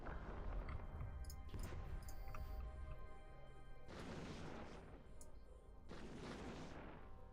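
Ship weapons fire in bursts during an EVE Online space battle, heavy crashing blasts with a dense roar, a long volley followed by two further surges after brief lulls, with no talking.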